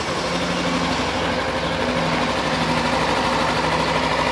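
A Kawasaki Ninja motorcycle sits in neutral with its engine running at idle, a close, loud and steady buzzing drone with an even mechanical rhythm throughout, no voices.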